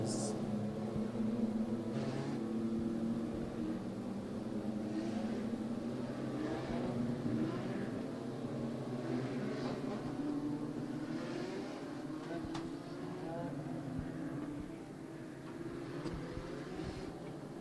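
Legends race cars at Maquoketa Speedway, a dirt track, in a Midwest Legends Dirt Series feature, engines droning steadily at a distance with rising and falling revs as the field circulates, under crowd noise and announcer talk.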